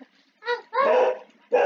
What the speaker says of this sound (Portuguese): Acho que ele tá latindo pra rua.